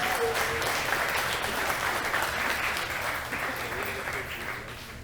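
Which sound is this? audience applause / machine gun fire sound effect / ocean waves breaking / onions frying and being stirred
audience applause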